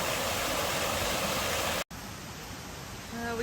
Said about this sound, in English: That's a really pretty waterfall.